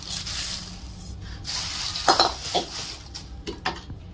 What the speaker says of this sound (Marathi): पोह्यांमध्ये आता हे मक्याचे पोहे घालते,